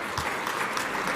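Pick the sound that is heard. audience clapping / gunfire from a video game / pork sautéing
audience clapping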